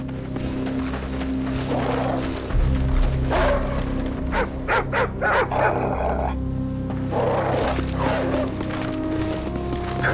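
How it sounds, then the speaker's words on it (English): A wild dog barks and growls in Call of Duty Modern Warfare, set on the Pripyat outskirts in Ukraine, over a steady rumbling ambient bed, with several sharp bursts clustered midway. "Leave it alone. It's a wild dog."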